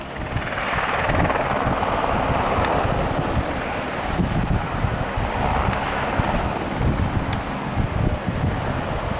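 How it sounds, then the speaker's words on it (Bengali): Rescue helicopter at Tilicho Lake base camp in the Nepal Himalaya, a steady loud rotor thrum and whine mixed with gusting wind noise, continuous with no talking. "একটা হেলিকপ্টার এসেছে"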